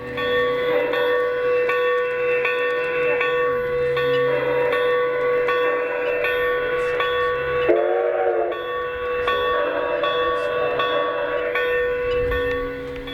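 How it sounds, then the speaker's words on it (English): A small bell on a model steam locomotive clangs repeatedly over a steady mechanical hum and rumble, with a brief metallic squeal partway through. "Here's the bell on this one."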